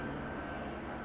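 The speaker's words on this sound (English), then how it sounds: "Yep, looks like a helicopter." A helicopter passes overhead outdoors, heard as a steady, broad engine and rotor rumble that fills the whole second at constant loudness, with no talking.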